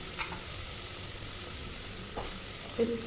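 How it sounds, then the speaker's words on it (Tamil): Faint, steady sizzling of tomatoes frying with curry masala powder in a pan for a vegetable rice dish, with a couple of soft stirring scrapes near the end. "கறி மசால் தூளையும் நம்ம கூட ஆட் பண்ணிக்கலாம் அதையும் நல்லா வணக்கிடுவோம்"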